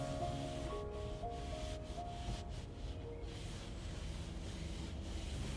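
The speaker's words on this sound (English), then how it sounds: "Dust thick enough to trace. Trace it I do, and wipe away" A cloth wipes thick dust from surfaces while a bedroom is cleaned, making soft, repeated rubbing strokes, faint and close, over a low steady background.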